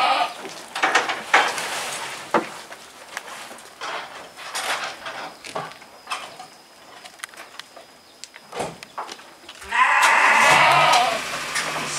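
Goats bleating on an Etawa goat farm, several calls scattered across the pen with livestock shuffling and bustle, moderately near, rising to a louder burst of activity near the end.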